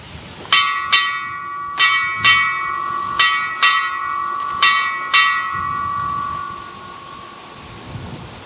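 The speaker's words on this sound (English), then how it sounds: "In keeping with naval tradition, 8 bells signifies the end of watch." A ship's bell rings eight bells at a naval retirement ceremony: four pairs of bright, ringing strikes spaced evenly, each pair quick and close, tones lingering and fading after the last stroke in a quiet room.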